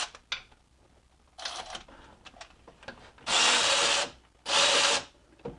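A power tool whirs in two loud, close bursts while removing power steering pump bolts from a BMW M62TU V8 in an E53, with scattered clanks and scraping of tools on metal before them.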